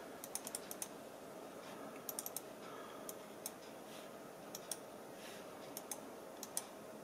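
Button clicks from a Motospeed V30 gaming mouse come as sharp, faint clicks, some single and some in quick clusters of two to four, spaced irregularly over a quiet background.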